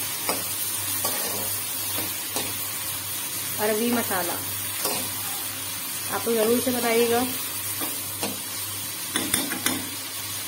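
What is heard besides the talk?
onions frying and being stirred in a pan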